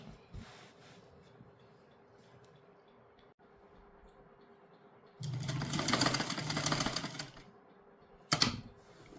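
A sewing machine stitches a pocket onto palazzo pant fabric in a brief rapid burst of mechanical needle clatter lasting a couple of seconds. A single sharp knock follows, while the surroundings stay quiet otherwise.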